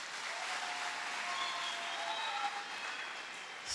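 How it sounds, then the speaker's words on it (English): A church congregation applauds a newly married couple, a dense steady wash of clapping hands from many people throughout, fairly loud and unbroken, with no speech over it. "Clap for them."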